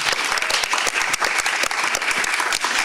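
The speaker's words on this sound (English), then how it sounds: "You can clap. It's okay." Dense, steady applause from a seated audience at a New York community forum on gun violence, many hands clapping close and loud for a few seconds.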